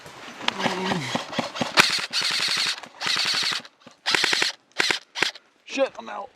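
Airsoft guns fire in rapid bursts during an ammo-crate escort game, with sharp repeated volleys separated by short pauses and voices talking briefly early on.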